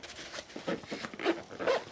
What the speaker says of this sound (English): Zip this guy up.